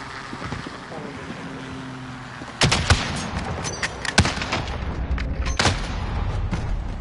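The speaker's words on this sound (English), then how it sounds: "Oh, I did shoot off some rounds." Gunfire in the video game Warzone: after a quiet stretch, a few sharp loud shots crack out, spaced apart over a low engine-like rumble, with faint background voices.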